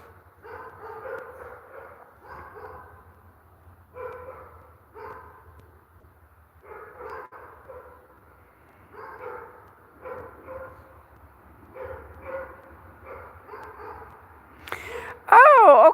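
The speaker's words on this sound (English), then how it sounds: "I hear dogs." Several short bursts of dog barking and yipping recur in clusters over a low steady hum, ending in a louder, higher whine.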